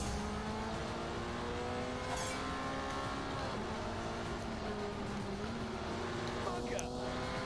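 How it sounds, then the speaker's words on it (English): A Porsche drives on public roads in The Grand Tour Game video game. Its engine holds a steady droning tone with gentle pitch shifts throughout, under faint background noise. "this time we get to drive the Porsche on the public roads"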